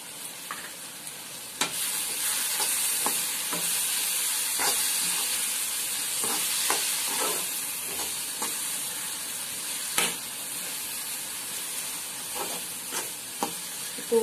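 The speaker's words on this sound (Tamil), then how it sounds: "இப்போ ஓரளவுக்கு நல்லா வதங்கிருச்சு, இன்னும் லைட்டாக கொஞ்சம் வதங்கட்டும்." Masala with a spoonful of garam masala sautés in a pan for egg gravy, giving a steady, close sizzle and hiss with repeated clinks and scrapes of the stirring spoon, and no voices.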